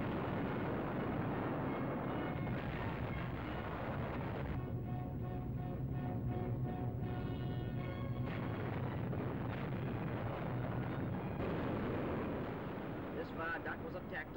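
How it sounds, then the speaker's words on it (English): Wartime aerial bombing footage of a bomb striking near German positions in the Ruhr, with a loud sustained rumbling blast and roaring noise filling the whole stretch, overlaid by narration. "There is the crater, and there is the explosion."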